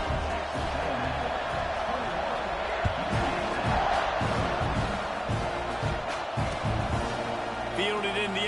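Home stadium crowd roaring steadily through a college football video game broadcast, a dense wash of cheering that swells midway, with game commentators talking over it throughout.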